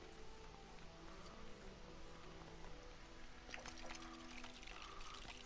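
Water jet splashing a character in the Lego Star Wars game, a faint, continuous pouring and spattering wash with small bursts of splashes toward the end, heard alone.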